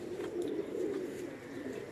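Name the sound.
pigeons cooing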